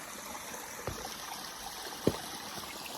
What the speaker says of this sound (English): This is just a little bit of water flowing.